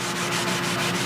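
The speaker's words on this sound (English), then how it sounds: "This is the last final sanding before I attach this to the base plate" Steady abrasive rubbing of sandpaper on a mold for a Spitfire model body, given a final sanding before mounting to a base plate; continuous, close and fairly loud, with a faint rhythmic stroke pattern.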